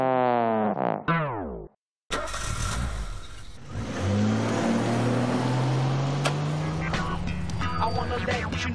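Cartoon car from the rhythm game PaRappa the Rapper starting up and pulling away, a steady mid-pitched engine drone with rising revs running under background music, close and loud.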